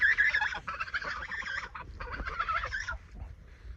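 Geese honk and call loudly in a close, continuous burst of overlapping cries, dipping briefly before a second run of honks and then fading.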